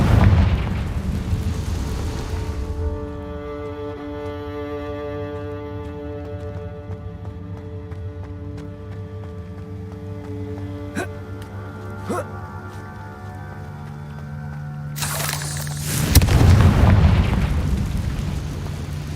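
A Confringo fire spell in Hogwarts Legacy bursts with a loud roaring blast at the start, a sustained tonal hum follows, then a second heavy fiery explosion erupts near the end.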